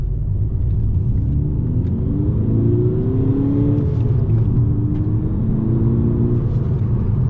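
Steady engine rumble and whir from a VW Golf 6 GTD with a 2.0 TDI diesel as the car accelerates, pitch rising through gears, heard from inside the cabin.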